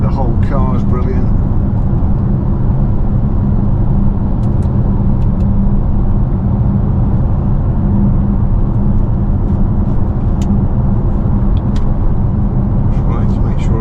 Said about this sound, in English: the tyre roar, it's certainly not unpleasant